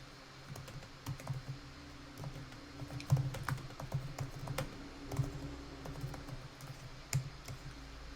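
Steady typing on a computer keyboard while writing code, a continuous patter of quiet key clicks with occasional firmer taps, close and unaccompanied by speech.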